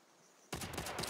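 Gunfire from the Call of Duty: World at War multiplayer game, likely the BAR rifle, erupting suddenly after a quiet moment into a loud, continuous burst of shots.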